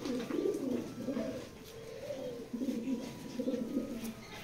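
A female pigeon in a breeding loft coos in repeated soft, rolling low phrases, close and steady, with faint background noise.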